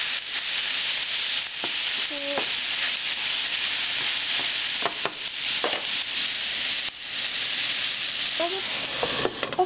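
Potatoes fry in a covered pan over very low heat, giving a steady, dense sizzle throughout, broken by occasional scraping and clinks of utensils.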